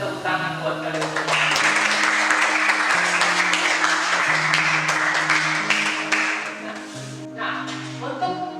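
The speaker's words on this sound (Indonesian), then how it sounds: "tepuk tangan buat kalian semua" Classroom audience clapping for students, brisk applause under a steady musical tone that fades somewhat toward the end.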